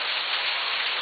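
Rain falls as a steady, dense hiss of close-up water spray, continuous and unbroken.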